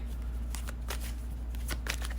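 A deck of tarot cards is shuffled by hand, a series of soft riffling and flicking bursts over a steady low hum, with no talking.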